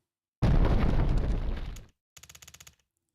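A loud explosion booms in the video game SANABI and rumbles for over a second, then falls quiet before a quick burst of about eight rapid gunshots rattles off and stops.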